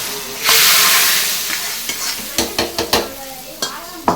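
Murrel fish curry in a pan gives a sudden loud sizzling hiss that fades, followed by a run of sharp bubbling pops and spits near the pan.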